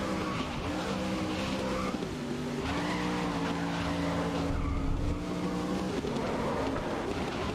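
Truck in the racing video game GRID, its engine droning continuously while the tyres squeal and slide through a long skid, loud and close with no talking.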